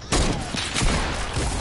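A rapid burst of video game gunfire from a trick shot attempt during a squad match, several sharp cracks landing close together and loud up front, with no speech over them.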